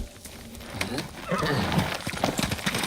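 A horse in the video game Ghost of Tsushima neighs while hooves clip-clop, short and close, with game sounds around it.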